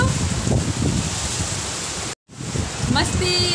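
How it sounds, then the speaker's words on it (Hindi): Steady dense rain hisses throughout, briefly cut out for a moment, with a voice speaking over it. "यहाँ बारिश हो रही है बहुत जोरों से"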